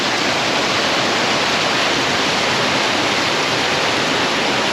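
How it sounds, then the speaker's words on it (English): A clear mountain creek pours down among boulders toward waterfalls, a loud, dense and unbroken rush of water filling the whole span with no voices. "The creek meanders its way down through all the boulders"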